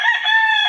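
A backyard chicken gives one short, loud crow-like call, close and alone, lasting under a second.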